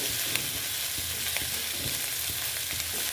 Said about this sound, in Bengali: দেখো, ভেজে নিচ্ছি ভালো মতন।